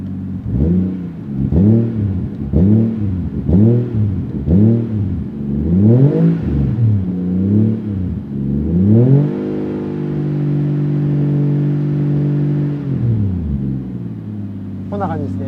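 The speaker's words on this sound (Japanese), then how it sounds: "マフラーサウンドいきましょうか。" A Toyota Mark II iR-V (JZX110) 1JZ-GTE turbo engine revs through its exhaust in short bursts, about six rising and falling blips, then holds a longer sustained rev before settling, loud and close.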